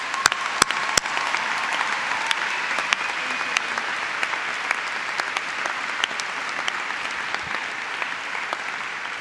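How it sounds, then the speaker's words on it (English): A warm, sustained round of applause fills a college commencement hall, with many hands clapping steadily at moderate volume from start to finish and no pause. "Please join me in welcoming Natalia with a warm round of applause."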